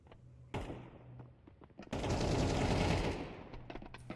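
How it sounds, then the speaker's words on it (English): Gunfire in a Counter-Strike 2 match, some scattered faint shots and clicks, then a loud sustained burst of rapid fire for over a second that fades into more isolated shots. "Bullets firing away here."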